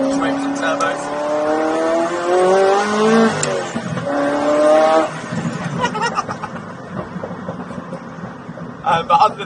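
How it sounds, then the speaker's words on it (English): A turbocharged Ferrari F40 engine revs loudly nearby, rising in pitch twice over several seconds before it settles to a rougher, quieter idle, with a voice talking over it. "Hang on a minute, just wait for some turbos."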